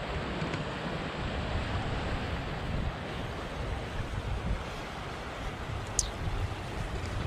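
A steady, loud rush of a strong river current fills the whole clip, broadband and continuous, with wind buffeting the microphone.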